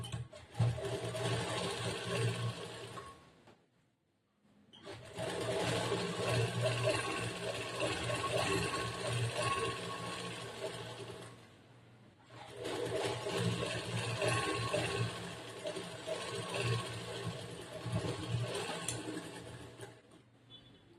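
A sewing machine stitches the side seam of a churidar top in two long running bursts separated by short pauses, its steady motor whir and rapid needle clatter close and clear, with no talking.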